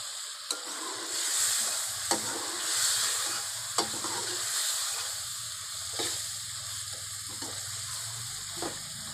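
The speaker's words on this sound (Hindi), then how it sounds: "ये मैंने मसाले डालकर भून लिया थोड़ा सा गोश्त" Gosht with salt, turmeric and other spices sizzles in a pan for a village-style mutter gosht, a constant, moderately loud frying hiss broken by occasional sharp clicks of a spoon against the pan, with no speech.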